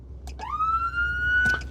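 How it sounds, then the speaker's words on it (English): An emergency rescue truck siren sweeps up sharply and holds a steady high wail for about a second, with a couple of brief clicks at the start and end. "You just press it and it'll turn the siren on to that mode."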